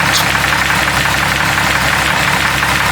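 A 4.0 engine running on pure Lucas oil additive, a loud, close, steady idle with a rough mechanical clatter and vibration continuing without a break.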